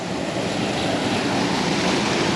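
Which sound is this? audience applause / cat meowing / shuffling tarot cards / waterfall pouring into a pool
waterfall pouring into a pool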